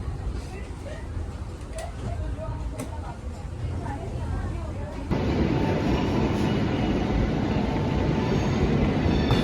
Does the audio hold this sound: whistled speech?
no